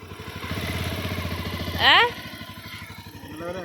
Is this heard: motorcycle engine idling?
yes